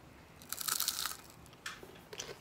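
Triple cooked fries crunch sharply as they are bitten, with one loud burst of crackling followed by a few smaller crunches of chewing, close and otherwise quiet.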